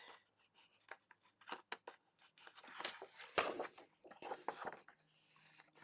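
Scissors snip through paper for a scrapbook calendar page, a series of quiet, close crisp cuts and rustles at irregular intervals, with some louder paper handling in the middle.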